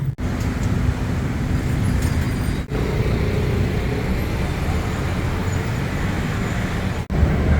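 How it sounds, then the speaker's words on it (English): Steady traffic rumble fills a Bangkok side alley off Sukhumvit on a hot holiday, engines and tyres droning close by without a break, with faint murmured voices mixed into the street noise. "traffic is not that bad on this holiday Monday"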